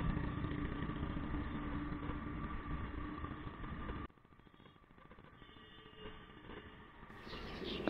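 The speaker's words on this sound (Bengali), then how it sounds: "এখান থেকে আগে একটা দেখতে পাচ্ছ বাইক যাচ্ছে" A commercial-plated motorcycle rides along a Kolkata street. Its engine rumbles close and steady, then drops off abruptly to a quieter hum before building again near the end, and nobody speaks.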